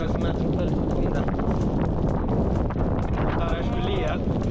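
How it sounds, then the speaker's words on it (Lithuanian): Strong wind gusts in Denmark roar and buffet against the microphone in a continuous loud rumble, with rain and a voice partly buried underneath. "Čia yra va toks vėjas. Jo vėjo gūsiai iki 16 metrų per sekundę."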